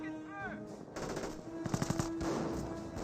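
Machine gun fire in a Company of Heroes 1 battle, a short burst of rapid, evenly spaced shots heard mid-distance amid game tones and background battle noise.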